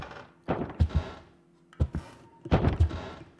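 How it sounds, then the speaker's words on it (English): A door in a video game bangs in three separate bursts of heavy, hollow thuds, each made of two or three quick knocks, close and loud with quiet gaps between. "The door's got some banging."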